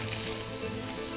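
Salmon fillet sizzling steadily in a hot pan, a dense continuous frying hiss with no pauses, close and fairly loud throughout.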